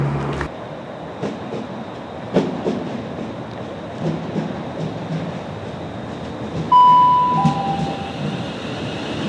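A CrossCountry passenger train with four coaches, heard from on board as a steady rolling rumble with clicks over rail joints, then a faint tonal chime or whine near the end.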